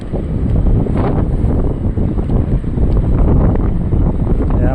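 Strong wind buffets the microphone at the Dangay ferry port in Roxas, a loud continuous rumbling gust with faint water and boat sounds beneath, no speech.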